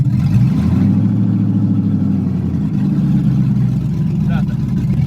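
An LS-swapped Chevrolet S10 engine hums and revs under gas in a garage, a steady loud low rumble that swells and dips, with people talking over it.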